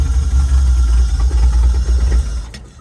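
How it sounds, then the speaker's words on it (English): A Toyota van engine runs at a steady, rough idle just after its first start, a loud close rumble throughout with a brief knock near the end. "That's a running engine."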